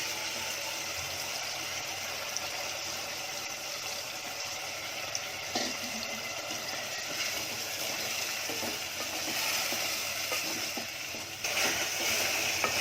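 Ground masala paste and onions frying in a pan for Konkani aalan, a steady close sizzle and soft bubbling with occasional clinks of a stirring spoon, no talk over it.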